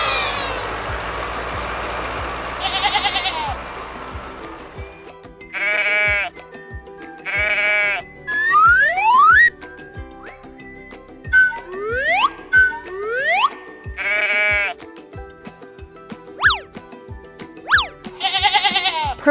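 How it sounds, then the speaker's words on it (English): Sheep bleat repeatedly in a toy farm-animal diorama scene, several loud wavering calls spaced across the clip among clicks, bright chimes and swooping whistle effects, with no talking. "Here come our beautiful wool giving friends, the sheeps"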